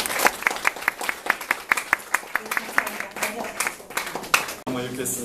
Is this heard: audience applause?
yes